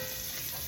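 Garlic sautés in butter in a pan for a stew, a brief steady sizzle with a bright hiss, close and without talk.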